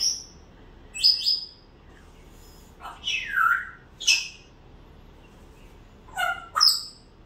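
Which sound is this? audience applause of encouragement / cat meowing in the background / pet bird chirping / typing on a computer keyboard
pet bird chirping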